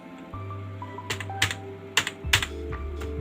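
Keys clack on a computer keyboard in short quick bursts of a few strokes each, close and crisp over a low steady electrical hum, with no speech.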